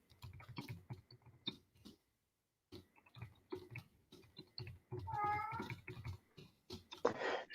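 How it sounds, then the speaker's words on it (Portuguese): A house cat named Habermas meows insistently indoors. One clear, drawn-out meow rises near the middle, among scattered clicks, taps and faint background sounds. "o meu gato está miando muito"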